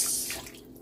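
Fish sauce (patis) poured into a pot of beef bulalo soup, a close, steady liquid trickle and drip that is fairly loud at first and then thins and fades.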